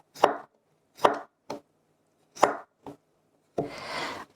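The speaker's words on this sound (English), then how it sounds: "then I'm just cutting them into small cubes" Potato spears being cut into small cubes, giving five distinct knife thunks on a board at irregular intervals and then a short scraping sweep, close and clear with no voices.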